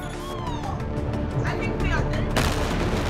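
A blast rips through a warehouse storing an 800-ton stockpile of ammonium nitrate, a loud, dense crashing roar with crackling bursts that surges sharply partway through, under and amid voices.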